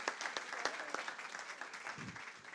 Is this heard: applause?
yes